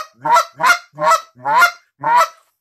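A hand-blown goose call mimics geese on the ground with five distinct, loud honks in a steady, evenly spaced rhythm, heard up close with nothing else behind them.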